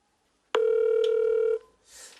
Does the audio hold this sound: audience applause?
no